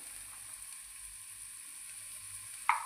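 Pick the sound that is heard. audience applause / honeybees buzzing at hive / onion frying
onion frying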